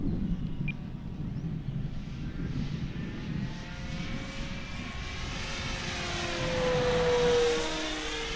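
Small Air Tractor agricultural-style RC model airplane flying at full power through a wing over, a steady droning propeller whine that shifts in pitch as it passes, moderately distant over outdoor background noise.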